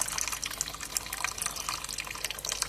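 Water pours steadily onto a succulent potting substrate to imitate rain, making a continuous close splashing and trickling hiss without pauses.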